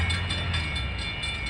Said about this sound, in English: approaching is train 1269. He'll stop here.